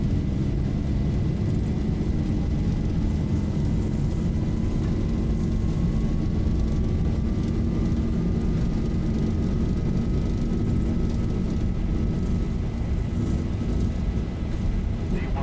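A loud, steady engine roar in a Zibo mod airliner flight simulator as it rolls for takeoff, with a constant drone and a slowly rising whine throughout, never letting up.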